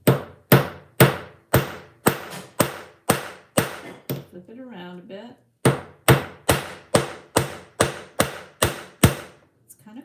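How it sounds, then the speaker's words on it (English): A hammer strikes metal jewelry wire laid on a steel block in sharp, evenly spaced blows, a run of about ten hits, a short pause while someone speaks, then another steady burst of ringing taps. "this is the part where I get out my steel block and my hammer."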